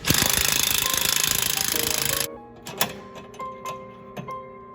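Impact wrench hammering nuts tight on BC coilovers during track prep of a widebody Dodge Neon SRT4, a loud continuous rattling burst for about two seconds, then cutting off to quieter clinks and handling noises.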